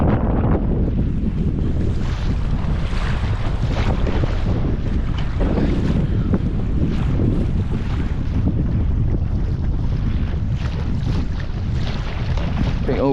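Strong wind roars steadily at a lake during carp fishing in France, a dense continuous rush with gusty buffeting on the microphone and lapping water, loud and unbroken throughout with no talking.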